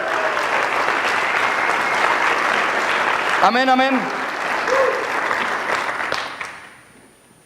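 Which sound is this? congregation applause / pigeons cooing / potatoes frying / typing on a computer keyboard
congregation applause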